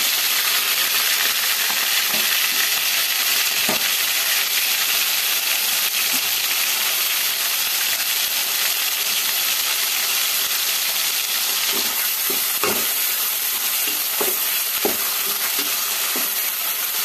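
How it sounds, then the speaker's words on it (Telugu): A single chopped onion fries in a hot pan, giving a continuous broadband hiss with a few scattered clicks and pops that grow more frequent toward the end. "అవి వేగుతుండగా ఈ ఉల్లిగడ్డ ఒకటి వేస్తుంది."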